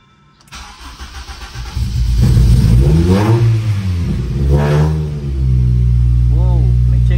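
A K-swapped 2001–2005 Honda Civic ES Dimension built with second-generation CR-V parts cranks, fires up and revs in rising and falling sweeps, then settles into a loud, steady idle.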